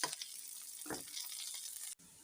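Garlic sautéing in a pan for a spicy garlic and chilli chutney, a faint soft sizzle with a brief stirring scrape, cut short near the end, no talk.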